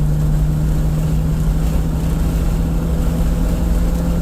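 A stock first-generation Honda CR-V (RD1) with a Yonaka catback exhaust accelerates in third gear at about 4,000 RPM, giving a loud, steady droning hum with a strong, even engine tone and some wind noise.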